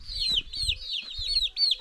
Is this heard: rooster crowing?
yes